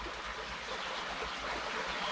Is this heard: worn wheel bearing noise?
no